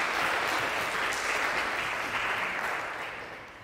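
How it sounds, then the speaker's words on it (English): An audience at a community leader celebration event applauds Komala with steady, fairly close clapping that gradually fades over a few seconds. "Let's give Komala another round of applause."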